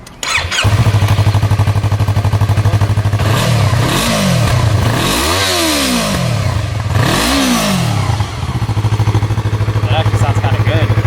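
A 2021 Yamaha MT03 motorcycle fitted with a Leo Vince slip-on exhaust starts up and idles loudly nearby, then revs sharply three times in rising and falling sweeps before settling back to a steady idle.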